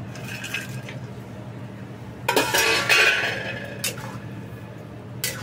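Paneer cubes go into a pan of gravy for restaurant-style Changezi paneer, giving a soft splash and a burst of spoon-on-pan scraping and clinking, with a few brief clinks following over a low kitchen hum.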